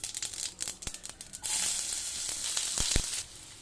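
Ginger, mustard seeds, urad dal, curry leaves and chillies sizzling in two teaspoons of hot oil in a pan, first crackling pops, then a steady close frying hiss.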